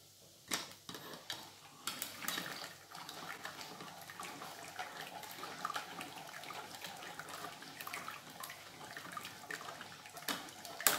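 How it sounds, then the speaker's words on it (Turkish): Broth pours out of a blender and splashes in uneven bursts, with light clinks and knocks of the container, close up and without speech. "biraz et suyu döktüm içine ve tekrar boşaltıyorum"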